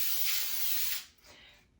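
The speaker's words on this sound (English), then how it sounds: "line it with foil, and then mist it with some baker's spray" Baker's spray mists into a foil-lined 9x13 baking pan, a steady close hiss for about a second, then a shorter softer second burst before fading out.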